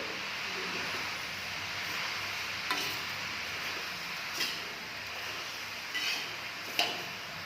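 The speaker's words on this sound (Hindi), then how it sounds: "दो मिनट लौकी पकाने के बाद में हम इसमें डालेंगे अपनी चीनी को। और इसको भी हम चला लेंगे।" Bottle gourd cooks with sugar in an open pan in a village kitchen, a faint steady sizzle broken every second or two by a light spoon scrape against the pan.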